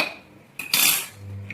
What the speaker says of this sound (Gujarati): ચાલો મમ્મી કુકર ખોલો હવે